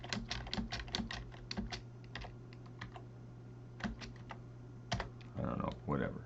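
Numbers are typed on a computer keyboard in quick, irregular bursts of crisp key clicks with pauses between, and a steady low hum runs underneath.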